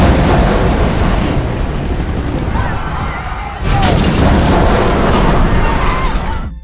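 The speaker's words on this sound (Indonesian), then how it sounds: "ledakan besar pun terjadi di sekitaran ruang kontrol" A big explosion in an action film, set around a stadium control room, sounds as a dense, sustained roaring blast with a second surge partway through, loud and rumbling throughout.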